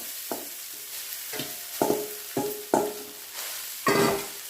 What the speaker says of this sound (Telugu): ఈ తాలింపులోనే అన్నం వేసుకోవాలి ఈ అన్నం అంతా కలిసేటట్టు కలుపుకోవాలి